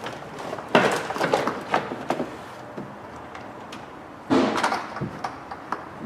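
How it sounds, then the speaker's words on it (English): Door trim panel being pressed back onto a Ford F-150 truck door, giving two bursts of close plastic rattling and knocking with scattered lighter clicks between them. "And now we can put the door skin back on."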